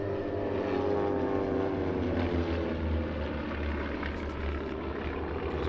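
Propeller engines of a seven-ship formation of RV aircraft drone steadily overhead at the Dawn Patrol air show in Apple Valley, a loud continuous roar with a low throb that holds level throughout, no voices.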